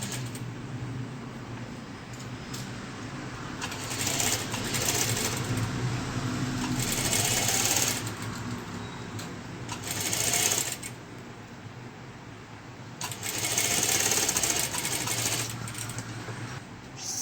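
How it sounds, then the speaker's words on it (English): A sewing machine runs straight stitches through lace laid over designer and cotton fabric layers for a three-layer face mask, whirring in several close runs separated by brief pauses. "place this lace over it and stitch it straight"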